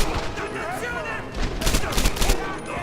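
Machine gun fire in the video game Medal of Honor: Airborne, rapid bursts of close shots that get louder in the second half, with someone talking over it.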